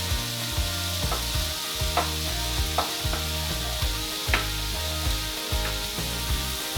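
A tablespoon of ginger hits a hot stir-fry pan, loud steady sizzling overlaid with a repeating rhythmic clatter and a few sharp utensil taps, with no one talking.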